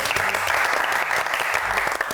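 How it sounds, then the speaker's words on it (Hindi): A studio audience at a comedy show breaks into loud, continuous applause, a thick, even rush of many hands clapping for about two seconds. "ताली बजाओ, ताली बजाओ।"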